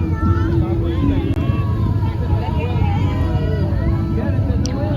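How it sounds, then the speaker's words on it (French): A tractor rolls past in an outdoor Christmas parade, its low rumbling engine steady and fairly close, with scattered crowd chatter and voices around it. "Oh, regarde le beau tracteur"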